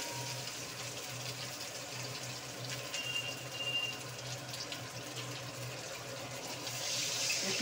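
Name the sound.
water poured into cooking pot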